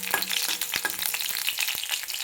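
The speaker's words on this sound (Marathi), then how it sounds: "तेल गरम झालं की त्याच्यामध्ये लसूण टाकून घेऊया" Garlic frying in hot oil in a pan, a close, steady sizzle with crackling pops and the occasional scrape of stirring, no voices.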